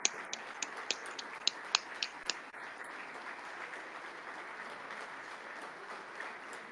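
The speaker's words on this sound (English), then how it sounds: "They're applauding right now at the floor." Crowd applauding on a floor, heard faintly and thinly through a Twitter Spaces audio stream; a few sharp, close claps stand out at first before the applause settles into a soft, even wash.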